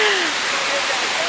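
Banyumala Waterfalls in Bali roar up close as a loud, continuous rushing wash of falling water, with a voice speaking faintly beneath it.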